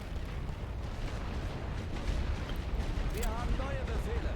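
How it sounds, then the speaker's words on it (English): Artillery fire in The Great War: Western Front video game, a sustained low roar of blasts and crackling gunfire with a faint whistling shell sweep near the end, under a voice. "Once this artillery lightens up, I'm going to pull this company out."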